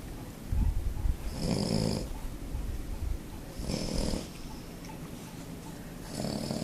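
A sleeping pug snores nearby in three slow, raspy, snorting breaths spaced a couple of seconds apart, each swelling and fading with quieter breathing between.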